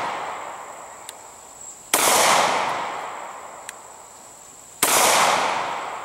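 Two sharp, loud shots ring out about three seconds apart from a Caracal C 9mm pistol firing HST rounds outdoors on a hot, humid day, each followed by a decaying echo, with faint clicks in the quiet between.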